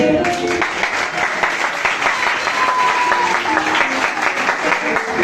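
Sustained applause from a church congregation at a youth presentation in a Reformed Christian church, dense even clapping from many people filling the room at a steady level from start to finish.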